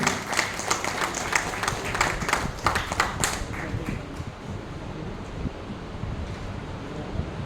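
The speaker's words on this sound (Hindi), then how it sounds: "जोरदार तालियों के साथ ये स्वागत होना चाहिए।" An audience at a lecture session in Nagpur claps in welcome, loud and crisp at first, then thinning and fading into soft background noise and rustle over the last few seconds.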